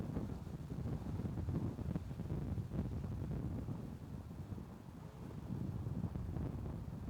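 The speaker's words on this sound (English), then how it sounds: "waiting for those gusts to stop. Look at that wind in your face." Wind gusts buffet the microphone on an open golf course, a continuous low rumbling roar that swells and eases at a moderate level, with no voices.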